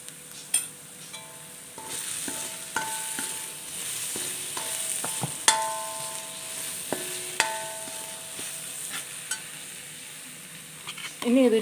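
Browned onions fry in a pan after salt is added, a steady soft sizzle broken by repeated scraping and clinking of a spoon against the pan, close and moderate in volume, with no talking.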